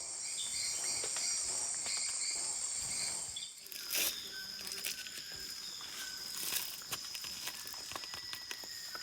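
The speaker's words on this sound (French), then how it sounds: "Entre les singes hurleurs, les grenouilles et les insectes, difficile de fermer l'œil." Dense nighttime Amazon rainforest chorus of insects and frogs, steady shrill buzzing and chirping throughout with a few louder bursts, an immersive wall of sound with no talking.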